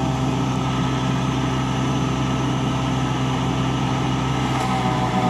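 A Tümosan 80-85 tractor engine drones steadily and loudly during a corn harvest, a constant close-up mechanical hum with no talking.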